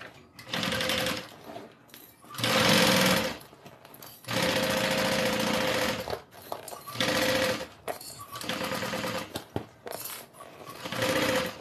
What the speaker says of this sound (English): Let's sew this up, and then we can turn it right side out through our little pocket.